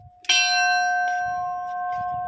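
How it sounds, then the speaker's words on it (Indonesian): A single loud strike on an old cruise ship bell mounted at a hilltop prayer site rings out, then sustains a clear, steady metallic tone that slowly fades. "ini loncengnya kapal pesiar"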